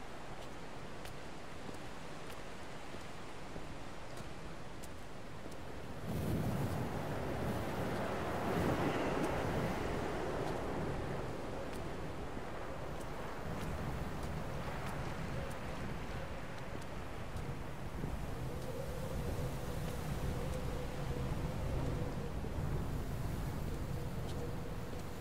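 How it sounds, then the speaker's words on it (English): Wind and waves in the video game Dear Esther: a steady, loud rush of wind and surf that swells noticeably about six seconds in and keeps roaring without a break, with no talking. "Very windy"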